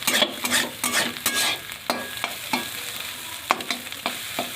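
Cabbage roll filling is stir-fried in a pan, with repeated sharp scrapes and clacks of a spatula over a soft underlying sizzle, uneven in rhythm and close up.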